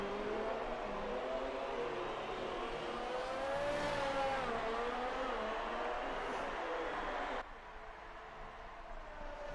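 F2 race car engine on the Mexican Grand Prix circuit in a racing game, a sustained high whining drone with pitch rising and falling through gear changes, dropping sharply near the end.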